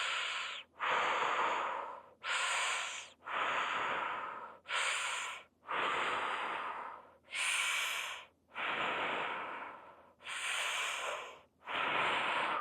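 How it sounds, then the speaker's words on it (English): Steady, deliberate breathing in and out through the mouth during a fascial maneuver exercise class, with about nine loud, close breaths in a slow, even rhythm, each one separated by a short pause. "breathing in through the mouth,"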